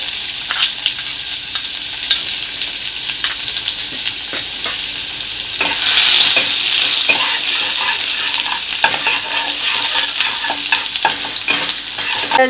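Chopped onion sizzles in hot oil with nigella seeds, a steady bright frying hiss broken by repeated scrapes and stirs of a spoon, and it swells louder midway as more goes into the pan. No one speaks.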